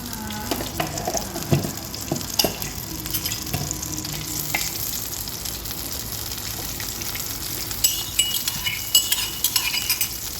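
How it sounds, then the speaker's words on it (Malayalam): Mustard seeds spluttering in hot oil in a heated pan, a dense sizzle punctuated by irregular sharp pops and crackles, close and fairly loud with no talk. "കടുക് പൊട്ടിട്ടുണ്ട്."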